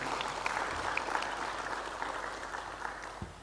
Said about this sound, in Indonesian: Tepuk tangan untuk Pak Dev semuanya.